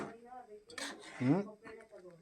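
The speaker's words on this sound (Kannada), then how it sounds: "ಈಗ ಚೆನ್ನಾಗಿ ಮಿಕ್ಸ್ ಮಾಡೋಣ ರವೆ" Semolina (rava) is stirred in a metal cooking pot while making upma, with a spoon scraping and clinking against the pot in short, close strokes. A voice talks over part of it.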